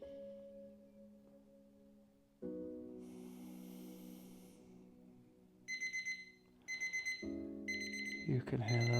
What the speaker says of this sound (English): You can hear there's our timer.